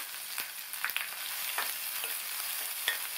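Sliced onions and green chillies sautéing in a pan for a ridge gourd curry, a soft sizzle with scattered light stirring scrapes and ticks, fairly quiet and close.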